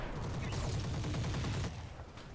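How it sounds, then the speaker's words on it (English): Machine guns in the mech combat game Roguetech fire a dense, rapid volley of overlapping shots, loud and continuous for nearly two seconds before tapering off. "nice peppering of machine guns"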